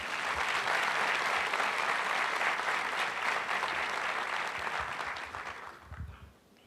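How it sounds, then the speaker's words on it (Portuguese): A church congregation applauds in a dense, sustained burst of clapping that holds steady for several seconds, then thins and fades out near the end. "Quem entendeu essa primeira parte, aplauda o seu Jesus."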